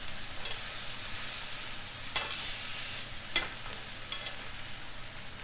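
Pork chops brown in a frying pan, giving a steady, moderate sizzle with a few brief sharp pops and clicks standing out against the hiss.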